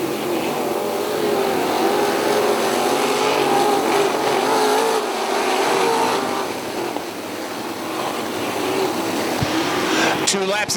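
Wingless sprint cars racing in a heat race at Wilmot, a dense roaring wall of engines from a pack circling the track, loud and continuous with rising and falling pitch.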